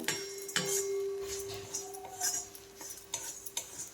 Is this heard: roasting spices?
yes